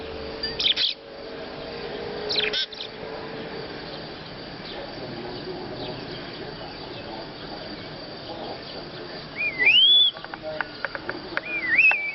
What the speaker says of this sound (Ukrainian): Хто ж виспівує отак, діти? То співає шпак.